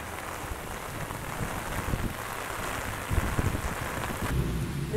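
Heavy rain pouring steadily, a dense close hiss with scattered heavier splatters and occasional low rumbles, no one speaking.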